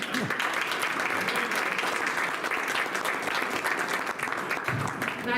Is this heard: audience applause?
yes